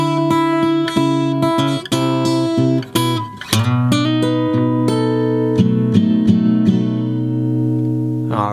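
Slow advanced blues turnaround on fingerstyle guitar, ringing bass notes and chords picked deliberately with short pauses, then sustained notes rolling on, played alone and close.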